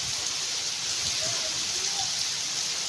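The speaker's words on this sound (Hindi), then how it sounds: "इतनी एक बारिश है" Heavy rain pours steadily on a village home, a dense unbroken hiss of falling water with faint rumble beneath and no break in the downpour.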